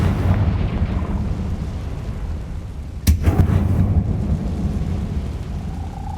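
A Confringo fire spell exploding in the Hogwarts Legacy video game: a sudden sharp blast about halfway through, cracking over a low rumbling background, then a fading crackle and rumble.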